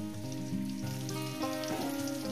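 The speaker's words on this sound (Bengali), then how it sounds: "তো বন্ধুরা দেখছেন আমি কিভাবে লাল লাল করে ভেজে নিচ্ছি" Radish pieces frying in hot oil in a pan, a close, continuous crackling sizzle that stays steady throughout, with faint tonal hum underneath.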